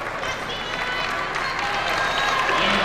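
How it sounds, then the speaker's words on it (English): A basketball arena crowd applauds a departing player, steady dense clapping and crowd noise throughout, with a voice speaking over it. "Nice round of applause."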